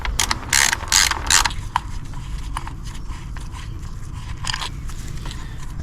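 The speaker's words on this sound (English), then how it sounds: "We can get much easier access to this by removing this Torx screw here and getting this out of the way." Ratchet removing a Torx T30 screw on a 2010 Audi A3 1.6 TDI, with a burst of rapid clicking at first, then slower scattered ticks close by over a steady background hiss.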